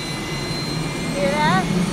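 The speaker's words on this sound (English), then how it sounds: "That sounds like an airplane starting." A gas turbine spins up on the Shell Vito offshore oil platform, a rising jet-like roar and whine that swells toward the end, heard amid steady machinery noise.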